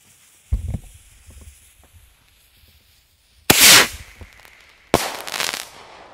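A firework rocket launches with a low thump, then two sharp, loud crackling bursts follow a few seconds later, each fizzing out.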